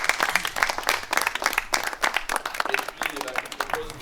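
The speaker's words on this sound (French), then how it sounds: "félicitations, on peut applaudir l'ensemble" Applause and clapping from a gathered crowd at the inauguration of a new local services building and parking area, with steady hand claps over about four seconds and a few voices mixed in.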